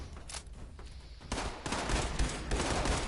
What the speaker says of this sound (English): Who the fuck is shooting like that?